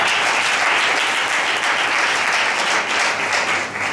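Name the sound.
wedding guests applauding the witnesses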